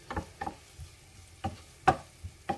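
Onions softening in a pan give a handful of soft scraping stirs over a faint sizzle, quiet and close, with no talk.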